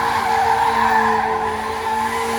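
A stunt car spins at a castle stunt show, its tires skidding in a long continuous squeal with steady engine drone, loud and close throughout.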